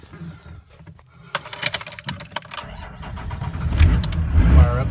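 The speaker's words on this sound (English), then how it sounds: "Fire up the truck." Dodge W250 Cummins diesel truck engine starting after a pre-glow: a few clicks and cranking, then the engine catches and settles into a loud, rumbling low idle, with a voice briefly heard.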